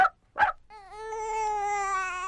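A dog gives two short yelps, then a long, drawn-out whine that holds steady and close for nearly two seconds.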